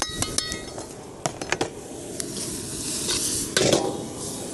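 Onion and sliced garlic sizzle steadily in butter in a wok while a utensil clinks and scrapes against it several times, close by.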